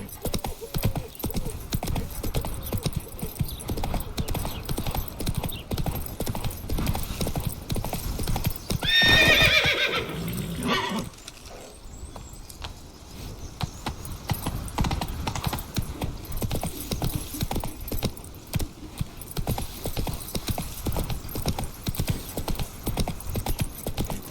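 Roach, the horse in The Witcher 3: Wild Hunt, galloping with steady rapid clip-clop hoofbeats throughout and a whinny near the middle. The hooves drop away briefly after the whinny and then return, with no talk.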